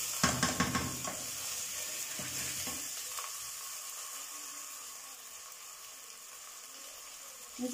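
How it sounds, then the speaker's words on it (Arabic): Chicken frying with onion in oil, a steady sizzle with stirring and scraping at the start that settles into a continuous soft hiss, at moderate volume. "نقلو الدجاج تاعنا كيما هكا"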